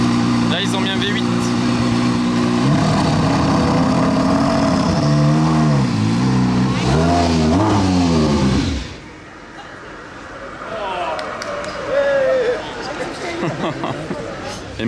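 A powerful V8 car engine at the 2024 Monaco Yacht Show idles roughly, then revs up and down in throaty surges before cutting off, with people chatting nearby afterward.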